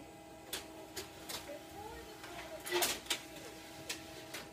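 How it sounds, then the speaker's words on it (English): A printer runs with a faint, low whir and scattered soft mechanical clicks and ticks, heard at a distance under occasional quiet talk. "It's the whirring of the printer."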